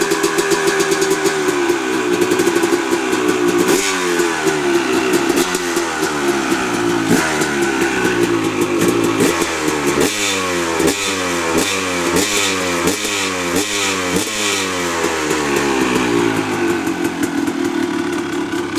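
Two-stroke dirt bike with its exhaust packing removed, revving loud and close in repeated sharp bursts that rise and fall, a raspy, buzzy engine note with no talking.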